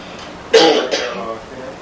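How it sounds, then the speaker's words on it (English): A woman gives one short, throaty cough close by during an interview, followed by a softer rasp. "I have a little cough."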